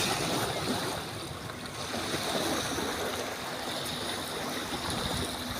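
Weak waves lapping on a muddy sea shore at Karamürsel, Kocaeli, heard as a steady soft wash of water with wind, faint and continuous, no talking.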